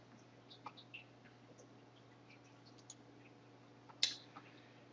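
Computer mouse clicking through Tune Up Utilities 2010 menus: a few faint, sparse clicks, with one sharper click near the end, over a steady low hum and no talk.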